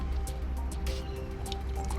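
Hot water poured into a cup for tea from a camping power-station kettle in a Toyota Hilux camper setup, a close, wet, bubbling trickle with small splashy drips running steadily for about two seconds.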